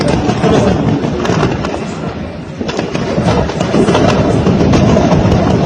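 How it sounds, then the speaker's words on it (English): Dense, continuous crackling bursts of gunfire during a coup in Guinea's presidential area, loud and sustained, like rapid shots echoing nearby with no pause. "Ils sont en train de tirer."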